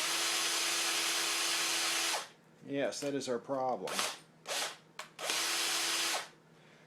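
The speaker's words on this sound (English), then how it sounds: "let's see what it does if I spin it with the drill." An electric drill spinning a motorcycle speedometer cable on a Yamaha Chappy whirs loudly in two long bursts with short spurts between, and someone speaks briefly in the gap.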